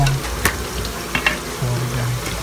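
Pork belly fries in hot oil with a close, crackling sizzle, scattered sharp pops and a few brief utensil scrapes over a couple of seconds.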